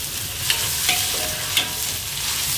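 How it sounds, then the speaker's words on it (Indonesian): Tomatoes stirred with a wilted spice paste in a pan, giving a dense, steady sizzle with a few sharp scraping taps of the utensil against the pan. "Terus terakhir saya masukkan tomatnya. Ini kita tumis lagi."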